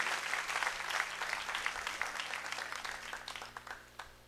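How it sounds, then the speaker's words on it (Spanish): A church congregation applauds during a sermon; a warm, sustained wave of clapping from a crowd in a reverberant hall, fairly quiet and gradually thinning toward the end. "Dele un aplauso al Señor"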